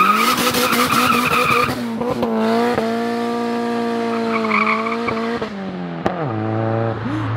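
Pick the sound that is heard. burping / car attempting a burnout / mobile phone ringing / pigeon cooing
car attempting a burnout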